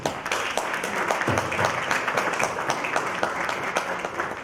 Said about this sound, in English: May I have a quick applause for everybody